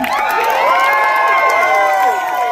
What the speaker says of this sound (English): Cheer them on, cousins.